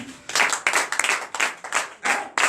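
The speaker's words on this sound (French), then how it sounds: "Donnez l'acclamation à Jésus" Worshippers at a night deliverance and prophecy service clap in loud rhythmic bursts, the claps coming in quick, uneven clusters close by with no talk over them.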